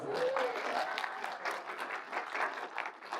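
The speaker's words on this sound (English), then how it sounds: "give that a round of applause" An audience at a convention voice-acting event claps in a quiet, somewhat distant burst of applause, irregular hand claps with a voice or two faintly mixed in.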